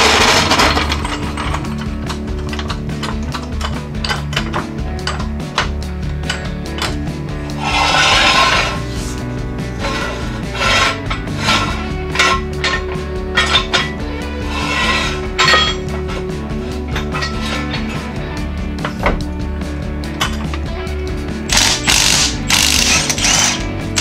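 Wheels being removed from a Jeep Cherokee XJ with its rear axle up on jack stands, a loud close ratchet clicking in rapid bursts alongside metallic clinks and grinding mechanical whirs over a steady hum.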